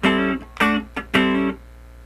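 Distorted electric guitar playing a short funk rhythm: four quick chord stabs with hammered notes, close and loud, then ringing to silence.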